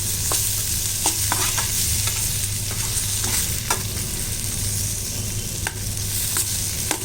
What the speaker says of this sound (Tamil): இதையும் நல்லா வதக்கிடலாம்